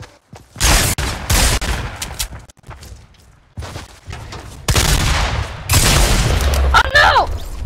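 Heavy gun firing in Fortnite, loud booming bursts of repeated shots that come and go in rapid volleys, close and dominant, with players talking at moments.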